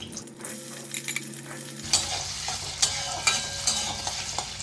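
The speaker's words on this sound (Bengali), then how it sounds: "ওই তেলেই আমি একটু আলু দেবো সেই আলুটা ভেজে নেব" Potatoes fry in oil left over from frying fish egg fritters, a steady close sizzle with sharp spattering crackles and occasional utensil clinks, rising louder after the pieces drop into the pan.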